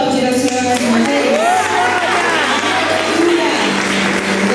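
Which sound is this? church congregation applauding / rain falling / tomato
church congregation applauding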